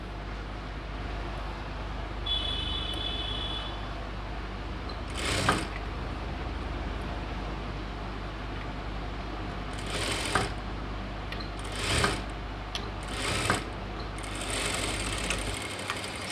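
A sewing machine stitches a chudidhar sleeve with a steady, close mechanical whir throughout, broken by several short, sharper clattering bursts near the middle and end, with no voices.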